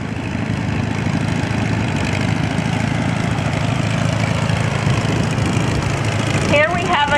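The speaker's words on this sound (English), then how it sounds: "Here we have Layman Odell from Huntington, Maryland on a 1946 Avery V." A 1946 Avery V tractor fitted with cultivators idles at an engine show, a steady, loud mechanical chug running throughout with a brief higher rattle near the end.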